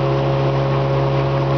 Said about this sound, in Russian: мотолодка начала решительно прибавлять скорости